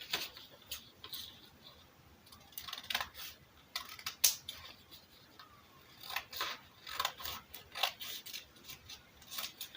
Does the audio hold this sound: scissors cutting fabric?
yes